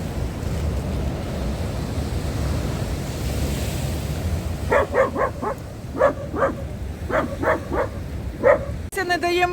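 A dog barks in short bursts of about a dozen sharp yelps near a stormy sea shore in Odesa, while heavy surf and gusting wind roar continuously underneath.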